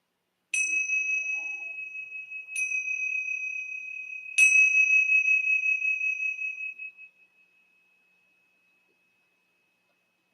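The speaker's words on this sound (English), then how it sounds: "When you hear the bells" Three meditation bells struck about two seconds apart, each ringing out clear and bright, the last one decaying slowly into silence in a quiet room.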